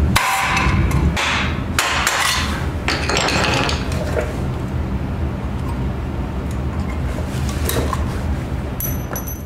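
Hammer blows knock out a larger knockout on a metal electrical box for heavy wire, a few sharp strikes early on, then quieter tapping and rattling.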